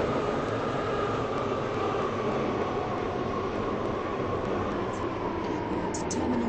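An airport terminal shuttle train of seven coaches rumbles along in a steady, loud, continuous roar of rail and motor noise, with faint high squeals near the end.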